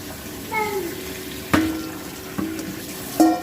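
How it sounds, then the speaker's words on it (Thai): Food is rinsed under cold water running from a tap, the stream splashing in several short bursts over a steady background trickle, with faint talking. "แค่น้ำเย็นล้างผ่านล้างผ่านน้ำเย็น"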